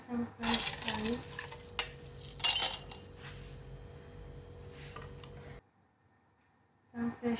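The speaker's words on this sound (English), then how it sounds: "Add some crushed ice." Crushed ice is added to a glass jar for a mojito, producing several bright clinking and rattling bursts close by, followed by a brief silence and another clatter.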